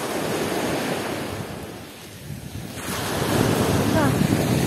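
Waves wash onto an Azov Sea beach at sunset, a continuous surf roar that swells and eases, mixed with gusty wind buffeting the microphone; no clear speech.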